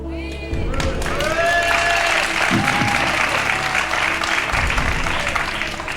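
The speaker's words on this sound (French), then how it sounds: "Non, mais vous applaudissez, mais c'est pas votre argent." Studio audience applause on a French game show, Qui veut gagner des millions, a dense steady wash of clapping that swells in after a brief pause, with a few cheers and a voice or two briefly heard above it.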